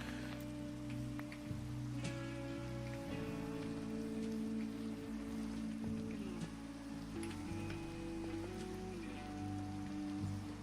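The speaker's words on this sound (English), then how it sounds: "Go away, rain." Rain falls in a steady patter inside a road-building game, mixed with sustained tonal hums and shifting background tones; no voices are heard.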